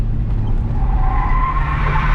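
A Ford AU Falcon drifting at Queensland Raceway during Friday Night Drifts, its engine roaring loud and steady with a high, drawn-out tire squeal rising over it, sustained without pause and without voices.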